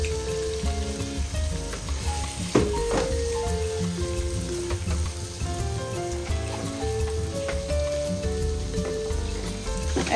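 Garlic paste and Bombay duck fish frying in a pan, a steady dense sizzle and crackle running throughout at close range, with faint stirring scrapes and no talk.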